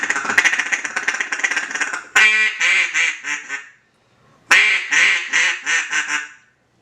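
A low-pitched duck call blown in close, loud quacking bursts: a fast run of rapid notes, then two descending sequences of several fat, round quacks separated by a brief pause.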